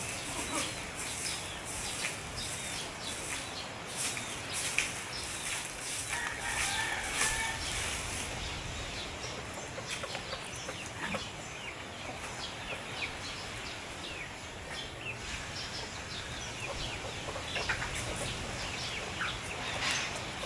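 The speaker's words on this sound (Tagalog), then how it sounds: "dito naman tayo sa may mga manok" Chickens on a home farm, with scattered clucks and short calls over a busy outdoor background of birds and insects, fairly faint and spread across a long stretch without talk.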